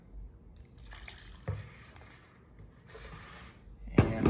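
Milk pouring into a bowl of creamed butter, sugar and beaten eggs for cake batter, a soft liquid trickle with a few small splashes and a louder splash near the end.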